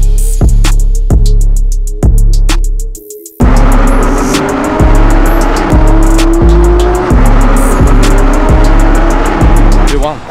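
A Porsche GT RS sports car drives loudly up close, its engine notes pulsing in rapid rhythmic bursts, a brief cut, then a steady roar with tire noise.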